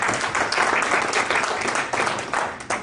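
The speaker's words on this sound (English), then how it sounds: "I think we deserve a round of applause." A conference audience at an information management induction and investiture ceremony breaks into full, dense applause, close and sustained, with a few louder individual claps near the end.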